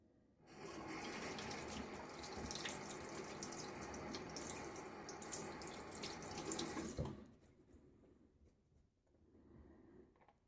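Tap water runs steadily into a sink during a wet shave, a close, hissing splash that lasts about seven seconds and then shuts off, leaving faint room noise.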